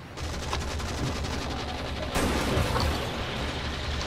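Gunfire from the video game Warframe: a dense, unbroken rattle of rapid shots that holds steady, then grows slightly heavier and louder about halfway through, with no talk over it.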